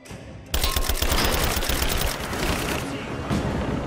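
Explosive ammunition gunfire in Rise of the Tomb Raider bursts in after a brief quieter lead-in, a dense rapid fusillade of loud shots and booms that carries to the end.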